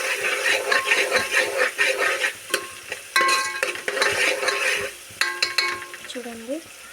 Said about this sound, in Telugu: కొబ్బరి తెల్లవాయి పేస్ట్ వేసుకొని కాసేపు కలుపుకోవాలి